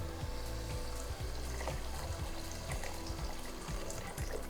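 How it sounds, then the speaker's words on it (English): Water poured into a pot, about six cups, for a Chinese-style fish broth: a steady, faint splashing stream running unbroken throughout, with no one talking. "I'm gonna add my water. It's about 6 cups of water."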